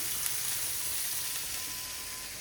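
Chicken frying in a hot pan, a steady close sizzle with an even hiss and faint crackle, no talking.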